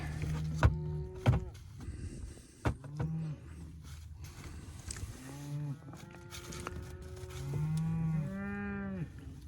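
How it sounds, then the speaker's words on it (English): Cattle moo repeatedly in the background outdoors, several drawn-out lowing calls of varying pitch overlapping with occasional knocks and handling noises nearby. "Cows providing background music."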